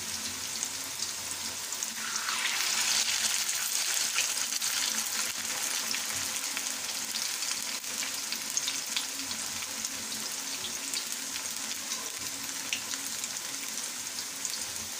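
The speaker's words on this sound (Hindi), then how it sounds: "हल्की आंच पे हम इसको बनाएंगे ताकि क्रिस्पी पकोड़े बने सही मज़ेदार वाले।" Potato pakoras made without gram flour fry in oil over low heat in a home kitchen. A steady, even hiss and crackle carries through the whole stretch at moderate level, with no talk over it.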